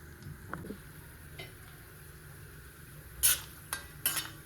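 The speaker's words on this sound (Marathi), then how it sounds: "थोडेसे काजू हे टाकून छान हलवायचं आहे एक मंद गॅसवर थोडेसे खरपूस भाजून घ्यायचे" Cashews and almonds stirred in a pan over a low flame, with a soft steady sizzle and occasional spoon scrapes and clinks against the metal, close and quiet with no talk.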